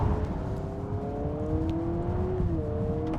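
A 2026 Honda Prelude with Type R front suspension parts powering through a left-hand corner, engine tone climbing and dipping over steady road and wind noise, heard from inside the car.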